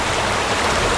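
A waterfall pours in a continuous, loud rush of broadband water noise, steady and close, with no voices over it.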